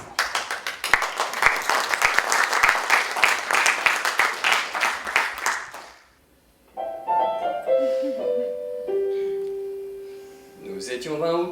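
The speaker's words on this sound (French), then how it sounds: "Sous vos applaudissements." Theatre audience applauds a stage performance of a Diderot comedy, dense clapping for several seconds before it stops and a sung melody begins.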